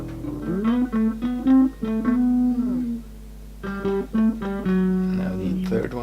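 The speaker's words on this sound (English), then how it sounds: "So the melody on the second part sounds like this." Synth melody from the second part of an electronic track (2018), a bright, sustained lead voice stepping through held notes with gliding pitch, loud and continuous, with a short gap midway before the phrase resumes.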